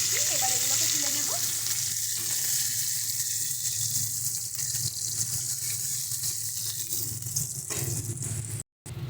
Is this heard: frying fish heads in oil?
yes